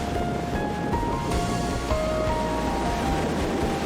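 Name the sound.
wind and sea waves at Mui Ne beach, Vietnam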